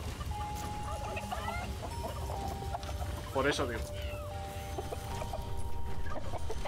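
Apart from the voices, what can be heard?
turkeys clucking in the video game Dungeons 4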